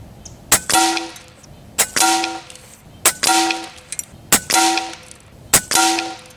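Five sharp shots from an Airmaks Arms Caiman X regulated bullpup PCP air rifle, evenly spaced about a second apart, each a crisp crack followed by a brief ringing clang of pellets striking a metal target.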